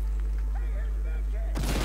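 A sudden, loud explosion bursts out near the end during a Battlefield 4 team deathmatch on Operation Locker, following a stretch of low rumbling game noise and a voice talking.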